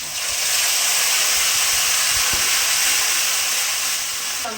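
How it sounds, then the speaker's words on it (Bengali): Ginger, garlic and cumin paste hitting hot oil in a pan, giving a loud, steady, close sizzle that fills the whole stretch without a break. "এগুলো ফোড়নে দিলাম। আদা রসুন জিরে বাটা,"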